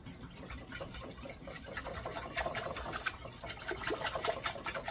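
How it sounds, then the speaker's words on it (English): Pudding mix is whisked briskly in a bowl for a Reese cup poke cake, giving a fast, steady, rhythmic clatter that holds for the whole stretch at moderate loudness. "now we're going to whisk that really good until our pudding mix is all dissolved"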